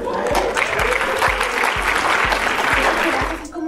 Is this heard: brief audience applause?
yes